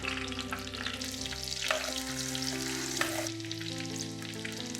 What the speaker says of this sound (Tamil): நல்லா ஃப்ரை பண்ணணுங்க.